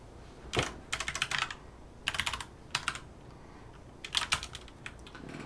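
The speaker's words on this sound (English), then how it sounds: "I can type." Typing on a computer keyboard, in quick bursts of clattering keystrokes separated by short pauses, fairly close and clear with no talking.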